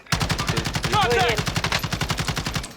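Rapid automatic gunfire in Call of Duty: Warzone, a steady stream of closely spaced loud shots running the whole stretch, with a brief voice-like tone in the middle.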